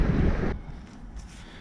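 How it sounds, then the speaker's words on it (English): Outdoor wind gusts roar as a loud low rumble for about half a second, then drop to a softer, steady breeze rustle for the rest. "Quite windy."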